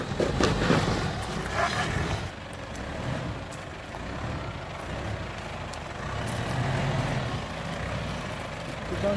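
Off-road 4x4 engine labouring as it climbs an obstacle in Ourimbah State Forest, a steady low rumble that holds throughout with a louder burst at the start.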